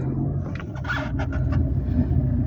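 Low engine rumble from a 2016 Skoda Octavia 1.6 TDI SE L estate with 119k miles as it moves forward at low speed, steady and close, with a few brief clicks and knocks over the top.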